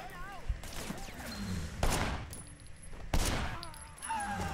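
Gunshots go off in a video game, two loud sharp reports spaced over a second apart, under quiet talk and game sounds.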